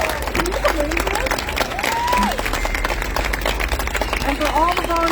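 Crowd applause at an outdoor candlelight vigil honoring AAPI victims of violence: steady, dense clapping from a sizable gathering, close and loud, with scattered cheers and voices mixed in throughout.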